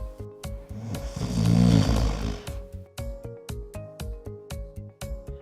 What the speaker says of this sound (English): Most snoring is harmless, but it can be annoying for the person who's sleeping next to you.